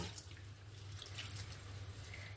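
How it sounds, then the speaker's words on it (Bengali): Water runs and splashes steadily while three kinds of lentils, including red masoor dal, are rinsed by hand in a bowl, a soft continuous wash with small sloshing bursts and no talking. "এই 3 রকমের ডালটা ভালো করে ধুয়ে নেব"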